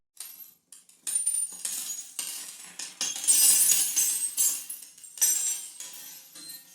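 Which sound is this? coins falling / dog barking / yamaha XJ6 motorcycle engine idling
coins falling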